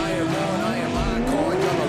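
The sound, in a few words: Toyota GT86 drift cars racing, tyres squealing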